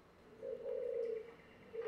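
A single soft, purring coo from a turtle dove, drawn out over about a second, with a brief second coo starting at the end.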